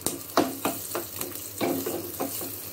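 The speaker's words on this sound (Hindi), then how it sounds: "उसके बाद मुझे ये कड़ी पत्ता डालना है और ये थोड़ी सी हींग जो मैंने आपको दिखाई थी" Curry leaves and a pinch of asafoetida sizzle in a hot pan for a tadka on urad dal, with repeated sharp crackling bursts and stirring scrapes close by, no talking.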